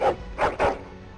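A dog in Dragon Age Origins gives three quick barks in a short burst, fairly close and loud, over a quiet game background.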